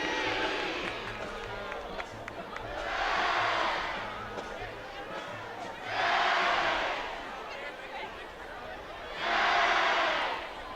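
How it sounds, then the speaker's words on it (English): Saints fans on the far sideline at a high school football game cheer and chant in rhythmic swelling bursts, a distant crowd roar rising and falling over steady stadium murmur. "the Saints cheering fans over there on the far sideline, hooping and hollering, getting their chants in as they normally do"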